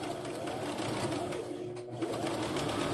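A sewing machine runs steadily as it stitches two fabric pieces together while quilting, with a continuous close-up hum and no break throughout.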